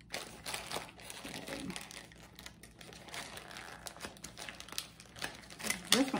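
A paper label peeled slowly off a jar, soft crinkling and tearing in close, quiet bursts that come and go over several seconds, ending in a sharper rip.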